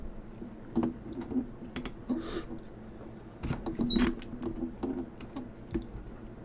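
Computer keyboard typing in quick irregular bursts of clicks, close and moderately loud over a low room hum, with brief pauses between runs of keystrokes.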